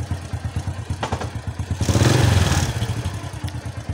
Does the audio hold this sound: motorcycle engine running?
yes